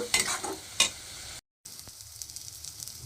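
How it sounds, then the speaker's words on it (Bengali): Masala sautéing in oil for dhaba-style chicken curry, giving a bright close sizzle with quick scraping stirs, a brief dropout, then a steadier, quieter fry. "এইটাকেও খুব ভালো করে কষিয়ে নেব একদম তেল বেরোনো পর্যন্ত"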